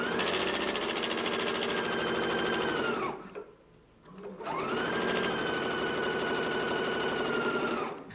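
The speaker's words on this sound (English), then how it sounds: "we're gonna go to the sewing machine, and you want to back stitch at the beginning and the end" Sewing machine stitching tucks on a maxi dress, running steadily and close for about three seconds, pausing briefly, then stitching again at the same even pace.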